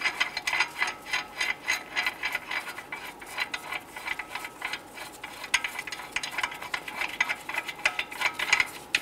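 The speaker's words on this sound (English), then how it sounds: "Go ahead and remove the lug nuts." A hand ratchet loosening the lug nuts on a 2002-2008 Dodge Ram 1500 front wheel: quiet, rapid, steady clicking of the pawl in repeated bursts as the wrench is swung back and forth.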